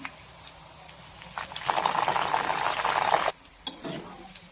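Jackfruit pieces sizzle and crackle in hot oil for a couple of seconds, then cut off abruptly, leaving faint background noise.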